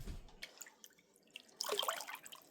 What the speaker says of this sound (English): And I'm going to pour it in my beef pot.